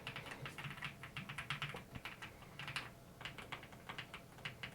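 Typing on a keyboard fitted with CERAKEY ceramic keycaps gives rapid bursts of crisp, close keystrokes in uneven runs with short pauses, and no speech.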